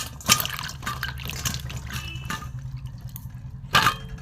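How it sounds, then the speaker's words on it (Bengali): Pointed gourds (potol) are washed by hand in a bowl of water, giving close splashes and sloshing with a couple of sharper splashes and drips between them and no speech. "প্রথমে আমি পটলগুলো এই জলে ধুয়ে নেব।"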